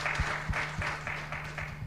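An audience applauds a conference moderator, a faint, brief patter of clapping with light rhythmic claps over a low steady hum.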